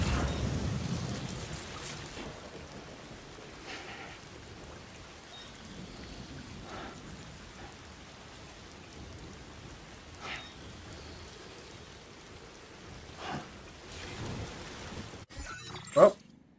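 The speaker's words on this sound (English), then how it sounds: "So I have to travel in the rain?" Rain falls steadily in a video game, a faint continuous hiss with occasional distant thunder rumbles and a sharp crack near the end.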